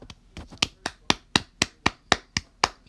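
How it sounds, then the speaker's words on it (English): Ten sharp hand claps in quick, fairly even rhythm, close and crisp, with no talking. "Sorry, just had to clap."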